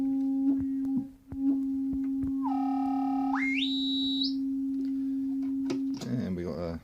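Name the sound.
sine wave through Erica Synths Polivoks VCF II filter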